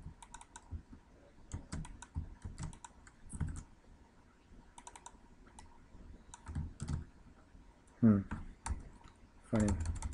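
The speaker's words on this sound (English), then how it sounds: "let me just type this one in." Typing on a computer keyboard while working in StatCrunch, heard as scattered bursts of close, crisp key clicks with brief pauses between runs and a couple of louder thumps near the end.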